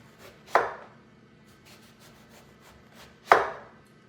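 A knife cuts eggplant into quarter-inch slices with two sharp, close chops against a board, well spaced apart, and quiet room noise in between.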